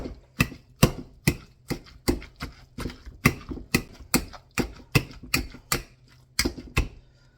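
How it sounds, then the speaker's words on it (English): Meatball ingredients are mashed together in a bowl with a masher, making a steady series of sharp, rhythmic thumps and clacks at close range, about two per second, with no talking. "with a masher. to mix all the ingredients."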